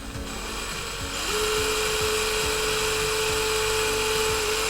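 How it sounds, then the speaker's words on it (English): An electric drill bores a hole into a part for a Hangar 9 Carbon Cub 15cc model airplane, whining steadily and close, its pitch rising slightly as it bites in and holds a constant drone. "If you are gonna use a drill, just go slow."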